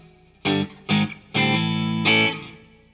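An electric guitar plays through a Wangs HD 15 amplifier with an MXR reverb pedal, giving four loud, close chords or notes in a row, each ringing out with a reverb tail.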